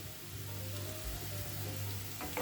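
Beans and potato sabzi with amchur powder being stirred in a pan: a soft, continuous sizzle with faint scraping, quiet and close, with no talking.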